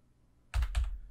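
Two quick, close clacks on a computer keyboard while code is being typed, fairly clear against a quiet background with no talk.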